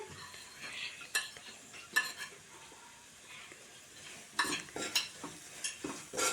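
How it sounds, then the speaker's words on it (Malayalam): Ground mustard, fenugreek and asafoetida being stirred together, quiet scraping and scattered soft clinks of a spoon against a pan in irregular bursts, faint and close. "നന്നായിട്ട് ഇളക്കി യോജിപ്പിക്കണം."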